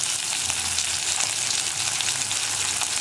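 Onions sizzle and fry steadily in a hot pan for a chammanthi, a continuous bright crackle with no speech.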